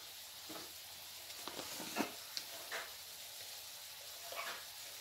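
Chicken frying in a little oil in a pan gives a steady, fairly quiet sizzle. A few soft stirring clicks and scrapes sound over it.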